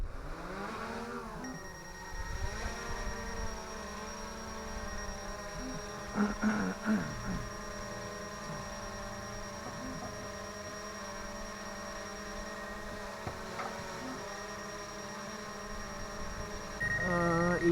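A drone lifting off and hovering, a thin steady electric whine and hum with fixed harmonic tones and a slight pitch swoop at the start, fairly quiet and continuous.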